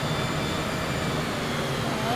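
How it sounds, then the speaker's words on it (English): Jet aircraft engines rumble steadily from planes on the runway in Microsoft Flight Simulator 2020 at LAX, a continuous broadband roar with no break across the clip. "There's two planes on the runway."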